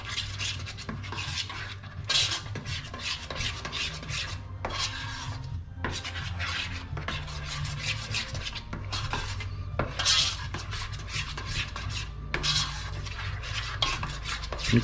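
A spoon scraping and stirring tuna mornay mixture in a large pot, repeated rhythmic rasping strokes against the metal, close and steady, with no talking.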